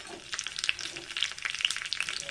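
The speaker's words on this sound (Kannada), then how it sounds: "ಈಗ ಒಣಮೆಣಸಿನ್ಕಾಯಿ ಚೂರು ಮತ್ತು ಕರಿಬೇವು ಹಾಕ್ತೀನಿ" Dried chili pieces and curry leaves crackle and sizzle in hot coconut oil, a steady spitting fry with scattered sharp pops throughout.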